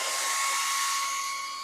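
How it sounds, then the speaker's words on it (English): A hair dryer blows hot air onto car wrap vinyl, a steady close-up whoosh that holds even and loud throughout. "let's see if the hairdryer has pullback"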